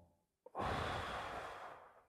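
A single deep breath taken during a guided breathing exercise: a short intake, then a long, close, soft exhale sighing out over about a second and a half before fading.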